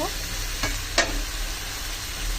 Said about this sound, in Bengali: এই জন্য আমি মাংসগুলো একটু কম ভাজছি।